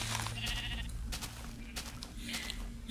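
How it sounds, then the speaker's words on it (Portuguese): Sheep bleating in the Minecraft video game, with a few short, nasal calls close by over a low, steady background hum. "Essa ovelha maldita aqui."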